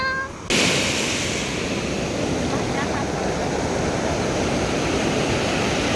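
Ocean waves at a beach in Mumbai, a steady loud broadband wash of surf that starts abruptly and rolls on continuously, close and dense throughout.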